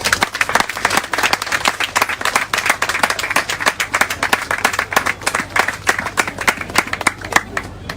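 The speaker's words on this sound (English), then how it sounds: "I want you to give your parents, your sponsors, and your guardians a well-deserved round of applause." A graduation ceremony crowd gives a hearty round of applause for parents, sponsors and guardians, dense steady clapping with many sharp individual claps, continuing for about eight seconds.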